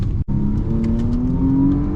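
A Porsche plug-in hybrid's combustion engine revs up close and loud, its tone climbing steadily over two seconds after a brief cut at the start.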